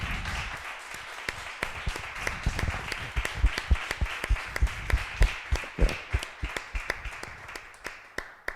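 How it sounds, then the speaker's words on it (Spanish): Audience applause after a psychology talk on the consequences of sexual abuse and its treatment, a dense wash of clapping with sharper individual claps standing out, steady for several seconds and fading slightly toward the end. "podemos dar un gran aplauso"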